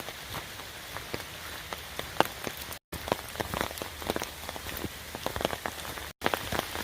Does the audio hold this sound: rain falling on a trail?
yes